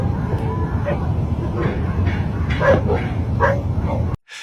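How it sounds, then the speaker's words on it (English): Dogs at a campsite in the Appalachian Mountains at night, repeated distant barks and yips over a steady low rumbling background, with a brief drop-off near the end. "dogs barking in the distance"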